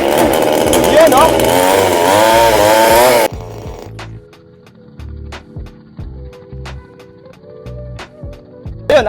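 A chainsaw engine fires up and runs loudly with a revving buzz for about three seconds, then cuts to a quieter idle with irregular knocks, while someone talks over it.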